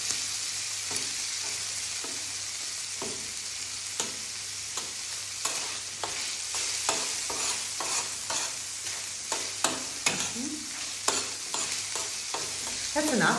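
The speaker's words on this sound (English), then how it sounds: "We want to fry our squid more." Squid frying in oil in a pan for paella negra, a steady broadband sizzle with repeated scraping stirs at an irregular rhythm, close and fairly loud, with no talking.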